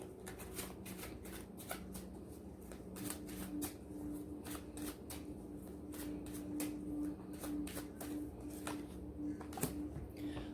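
Tarot cards riffle and slap through a steady run of shuffles, with repeated crisp card snaps close to the mic and a faint steady hum underneath, no talking.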